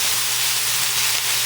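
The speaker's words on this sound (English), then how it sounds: "brown this sausage" Sausage browning in an iron skillet gives a continuous loud sizzling hiss, steady and close throughout, with no voices over it.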